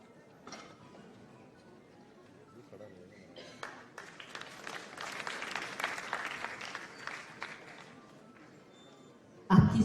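Audience applause welcoming guests at a Rajasthan school education board event begins scattered and swells into sustained clapping before cutting off, with a brief loud knock at the very end.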